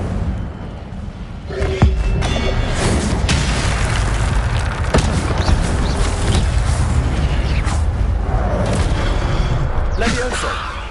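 The Incendio fire spell goes off in the Hogwarts Legacy video game, a loud, dense burst of booming, roaring noise that holds throughout, with scattered sharper cracks, and a voice speaks over it.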